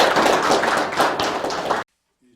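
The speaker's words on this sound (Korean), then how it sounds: "힘차게 박수를 쳐주시기 바랍니다." Audience clapping at the opening of the 2020 first Gyeonggi food plan special committee meeting, a dense burst of many hands that stops abruptly into silence.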